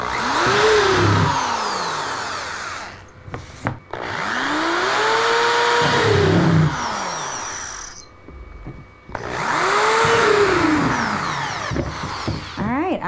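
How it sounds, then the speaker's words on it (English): A power drill boring holes into a plastic worm bin, running in three long whining bursts with rising and falling pitch, loud and close, separated by short pauses. "I'm done drilling all of the holes here."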